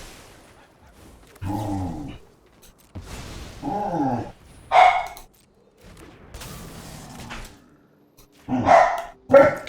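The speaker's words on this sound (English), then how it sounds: "The dogs are acting up." Dogs bark in a few separate bursts, fairly close, with quiet gaps between each volley of deep barks and sharper yips.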